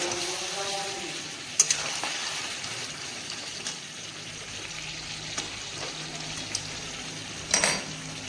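Onions and spices for a desi chicken curry fry in a pan with a steady low sizzle, broken by a few sharp utensil clinks and scrapes as the mixture is stirred.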